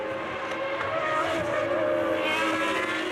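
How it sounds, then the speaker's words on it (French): Formula 1 race cars from the 1997 season scream past in a continuous high-revving whine, loud and sustained, with no voices over them. "Häkkinen passe, il est en tête. Et Coulthard passe également."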